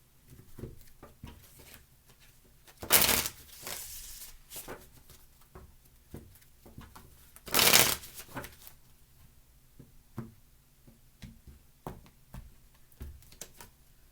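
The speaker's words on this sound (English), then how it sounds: "but 2 more shuffles" Tarot cards are riffled and shuffled close up: two loud papery ripples stand out among soft repeated taps and flicks of cards being handled.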